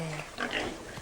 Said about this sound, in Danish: Og en lille gris.